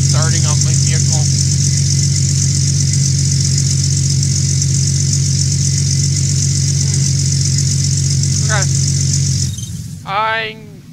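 A video-game vehicle engine starts up and settles into a steady, loud idle hum that runs for several seconds, then cuts out abruptly near the end.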